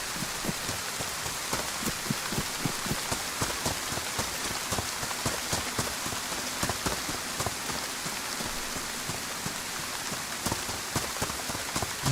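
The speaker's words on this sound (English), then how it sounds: "I think I thought this much rain was a great idea." Heavy rain in the DayZ survival video game, a loud dense hiss of drops pattering steadily on surfaces throughout, unbroken and with no speech.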